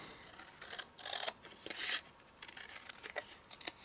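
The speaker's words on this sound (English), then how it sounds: "It's easier to cut with the bigger scissors." Large scissors snip through paper in a few quick, close, quiet cuts with soft rasping strokes in between, with no talking.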